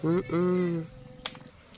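Goat bleating in a farm pen: one loud, close, wavering bleat that is briefly interrupted, then a shorter second call, followed by quiet pen noise and a faint click.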